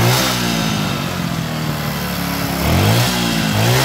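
A Kawasaki Kaze motorcycle fitted with a Supra 125 carburetor idles fast and loud up close, a busy, steady engine rumble that dips briefly and then rises again as the idle speed is adjusted, with no talking.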